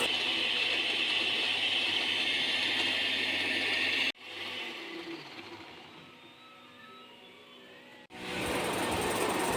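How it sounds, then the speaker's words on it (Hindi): A kitchen blender with its lid shut whirs loudly and steadily as it purees a tempering with green chillies and mint. It stops briefly twice and then starts up again, and no one talks. "ढक्कन बंद करके अच्छी तरह ब्लेंड कर लें"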